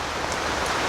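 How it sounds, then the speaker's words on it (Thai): Steady heavy rain pours down in a rural Thai-Lao setting, a dense continuous hiss filling the whole moment with no voices. "ยังฝนตกแฮง"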